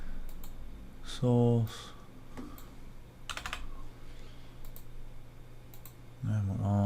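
Computer keyboard typing with backspace presses and shortcut key combos, a quick run of crisp clicks under ongoing speech, close and fairly quiet.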